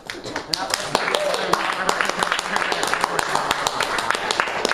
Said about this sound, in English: Give you guys a big round of applause.